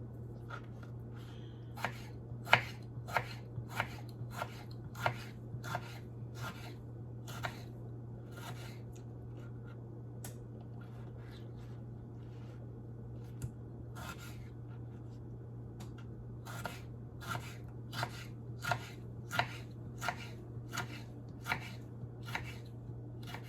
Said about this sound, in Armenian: Սխտորները կկտրատենք։